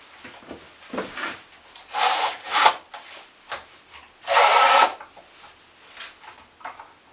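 A hand saw cuts through wood while finishing a kitchen drawer, irregular rasping strokes in short bursts with one longer pull, close up and alone.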